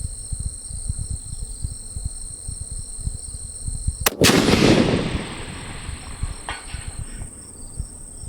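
A single 7mm PRC rifle shot fired at long range outdoors: one sharp, loud crack halfway through, followed by a rolling echo that fades over several seconds, with steady insect buzzing throughout.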